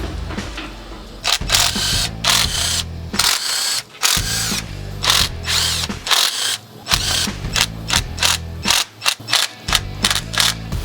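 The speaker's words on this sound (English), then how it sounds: "we're going to remove the pan bolts on the transmission to drain the fluid out" A power tool spins out transmission pan bolts on a 1972 Mustang Mach I in loud, repeated whirring, ratcheting bursts, each a second or less long, close up, with short pauses between them.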